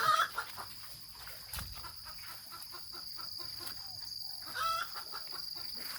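Chickens cluck intermittently in the background, soft and a little distant, over a steady outdoor hiss with a few scattered calls.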